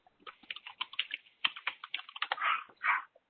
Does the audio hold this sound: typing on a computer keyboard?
yes